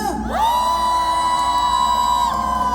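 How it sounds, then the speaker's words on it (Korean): A concert crowd at a Gwangju kimchi festival cheers and shouts loudly and steadily, a sustained roar with whoops rising over it for nearly three seconds. "자, 함성도 한번 질러보세요"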